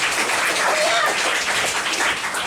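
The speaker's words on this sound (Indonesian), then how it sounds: "tepuk tangan untuk kita semua" A family worship service in a home, Rayon 2, fills with a continuous wash of hand clapping, steady and fairly loud, with a voice briefly rising beneath the applause.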